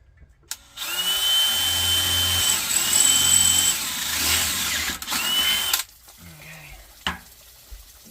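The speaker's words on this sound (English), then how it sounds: "we want to drill some holes in the tank." A power drill bores holes into a failed well pressure tank, giving a loud whining, grinding burst that pauses briefly and resumes for about five seconds. It stops abruptly, leaving faint clinks and background noise.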